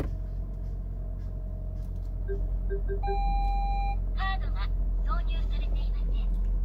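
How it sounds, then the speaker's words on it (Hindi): Alert in a Japanese-market car at startup, heard in the cabin over a low engine idle: a few short beeps, then a sustained chime tone and a brief burst of synthesized voice. "जब उसको स्टार्ट करते हो तो एक आवाज़ आती है जापानीज़ में।"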